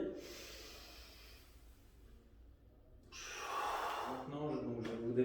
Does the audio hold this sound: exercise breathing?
yes